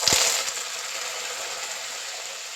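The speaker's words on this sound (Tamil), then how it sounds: "கருவேப்பிலை பொரிஞ்சிருச்சு" Curry leaves and mustard seeds frying in hot oil give a loud burst of crackling and popping at the start, then settle into a constant fine hissing sizzle, with no one talking.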